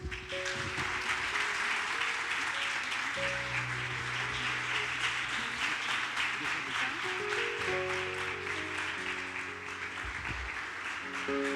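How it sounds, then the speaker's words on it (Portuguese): A church congregation applauds steadily and loudly, with sustained tonal music, likely an organ or keyboard, playing underneath throughout. "Então vamos dar um aplauso?"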